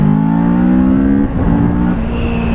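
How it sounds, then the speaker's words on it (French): A Kawasaki Ninja 650 motorcycle engine revs loud and close, with a steady high drone that dips briefly midway and then picks up again. There is no talking. "Et le moteur reste assez vif."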